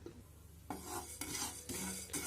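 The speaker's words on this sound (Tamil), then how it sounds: "இது மூணுத்தையும் நல்லா ட்ரை ரோஸ்ட் பண்ணிடலாம்." Fennel, cumin and coriander seeds dry roasting in a pan on a medium flame, with several scraping stirs in a repeating rhythm and a light sizzle and rattle between them, close and clear.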